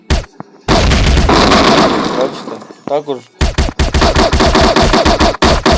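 Loud bursts of rapid video game gunfire with booming shots in a sandbox game, broken up by brief gaps. A person speaks briefly over the shooting.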